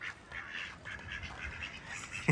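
Ducks quack in short bursts at moderate distance, a steady chattering flock with no talk over them, ending in a sharp louder knock.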